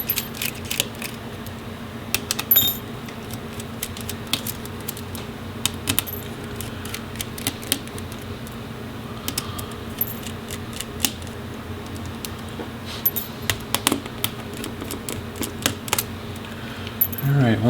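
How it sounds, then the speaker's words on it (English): Motherboard screws come out of a Dell Inspiron 15 7573 laptop, heard as scattered small metallic clicks and ticks from the screwdriver and loose screws, close by, over a faint steady hum. "we can go ahead and remove those motherboard screws"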